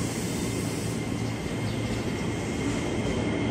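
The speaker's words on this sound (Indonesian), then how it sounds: "Jalur 3-nya masuk juga komuteran tujuan Bekasi." KRL commuter train rumbling at Manggarai station in Jakarta, a steady broad roar of rolling cars with low hum running throughout, fairly close and constant, with no talking.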